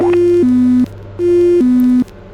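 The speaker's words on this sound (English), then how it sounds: "That sound is the sound that it makes when I disconnect the autopilot" An aircraft autopilot disconnect tone in a MKIV canard airplane: a two-note electronic tone sounds twice, a higher beep falling to a lower one, repeated in a steady pattern against a low engine hum.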